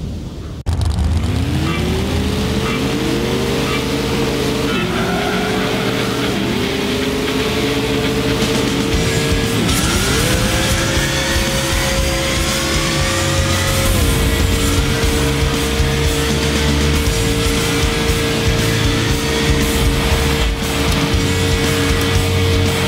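Race cars roar through a racing video game. A single engine sits close and loud throughout, rising in pitch through each gear and dropping at every shift, over a continuous bed of tire and road noise, with no voices.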